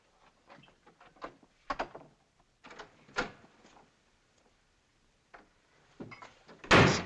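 Doors slam in a Western drama scene, a few scattered bangs and knocks with short gaps between them, ending in one loud, close impact.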